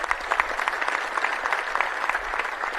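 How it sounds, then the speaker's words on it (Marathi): An audience at a rally claps for the speakers, a brisk steady round of applause from a crowd that holds at an even level throughout. "आपण सगळ्या जणांनी जोरदार अशा टाळ्या मारल्या पाहिजे"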